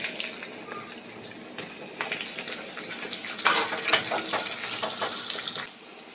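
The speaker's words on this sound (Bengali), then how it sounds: "এখন আমি অ্যাড করব এর মধ্যে কেটে রাখা পেঁয়াজ কুচি।" Chopped onions fry in a pan while chicken cooks, giving a steady moderate sizzle broken by several scraping stirs and clinks, louder around the middle, with no talking.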